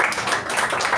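A short burst of audience applause at a Toastmasters meeting, a dense patter of many hands clapping at moderate volume with no voices.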